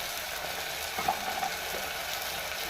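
Coriander powder, cumin powder and other spices fry in a pan for Telugu fenugreek rasam, a steady close sizzle with faint stirring clicks partway through and no talking.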